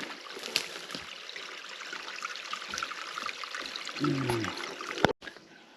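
A gentle, continuous trickle of shallow running water fills the scene, with a brief low rumble and a sharp knock near the end.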